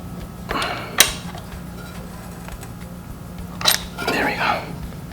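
Spark plugs being tightened by hand on a restored 1968 Evinrude 15 HP outboard, giving a few short clicking, ratcheting mechanical bursts at close range over a low steady hum.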